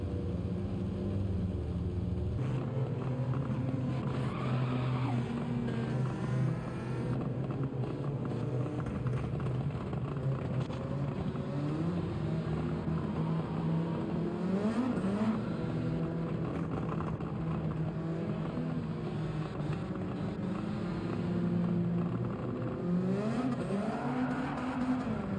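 A Honda S2000 racing in Gran Turismo 7, a steady engine drone with rising and falling revs and tire hiss running continuously, moderately loud with no talk over it.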